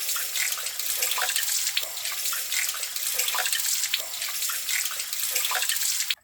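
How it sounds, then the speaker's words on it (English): Tap water runs steadily into a sink while parts of a Hurom H400 slow juicer are rinsed under it, a close broadband gush with small splashing changes, ending abruptly as the flow stops; no speech. "and then I just wash the rest down the sink."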